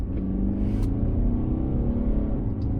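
A Mercedes E-Class engine in Sport Plus mode, second gear, drones and rumbles steadily from close by at night, a continuous low revving hum with no speech over it.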